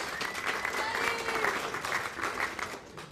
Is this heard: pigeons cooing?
no